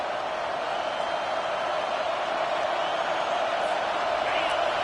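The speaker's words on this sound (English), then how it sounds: "with this place rocking, the crowd forces a false start" A loud stadium crowd roars during a football game on third down, a dense sustained wall of cheering and noise holding steady throughout.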